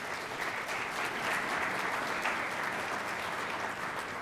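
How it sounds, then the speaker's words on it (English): Steady, even applause from an audience at an economic forecast event honoring its sponsors, a dense wash of claps holding at a constant level from start to finish with no voices over it. "Let's give a round of applause for our sponsors."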